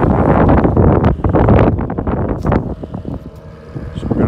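Strong gusts buffet the microphone at a large roof replacement site, loud rumbling wind noise that surges and eases in waves, with faint work sounds underneath.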